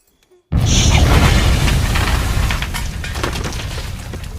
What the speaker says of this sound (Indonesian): terdengar suara ledakan yang membakar sebagian rumahnya